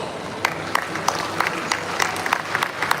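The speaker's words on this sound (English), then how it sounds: "Giving them a big round of applause" Scattered audience clapping at a bird show featuring birds of prey and scavengers at a bird park, fairly light and uneven with distinct individual claps rather than a dense roar.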